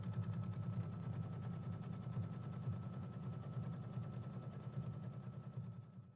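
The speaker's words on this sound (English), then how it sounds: "The next step is going to be my tacking stitch for my batting." An embroidery machine sews a tacking stitch through quilt batting, a steady, rapid run of mechanical needle pulses that holds an even pace and close, moderate loudness throughout, with no voices.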